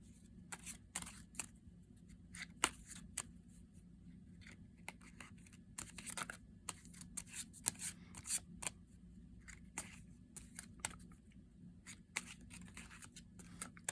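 A tarot deck of Major Arcana cards is shuffled by hand, giving quiet, irregular crisp clicks and riffling snaps close by, with no one talking.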